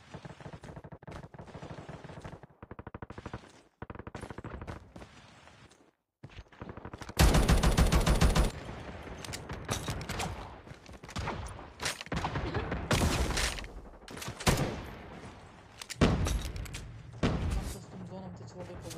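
Rapid gunfire bursts and single shots in a Call of Duty match, sharp repeated cracks and automatic fire at varying distances, mixed with players talking over the action.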